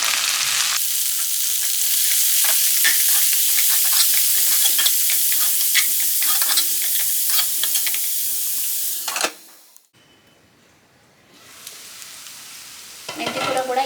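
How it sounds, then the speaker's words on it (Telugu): Fenugreek leaves (methi) with onion and green chilli sizzle and crackle steadily in a pan, with scraping stirs throughout. The frying cuts out abruptly near the end, then a faint hiss and a burst of noise return. "ఇప్పుడు ఇందులో మనం కట్ చేసి పెట్టుకున్న మెంతికూరను వేసుకుందాం. మెంతికూరను కూడా ఒక 3-4 నిమిషాల పాటు మంచిగా మగ్గనివ్వాలి."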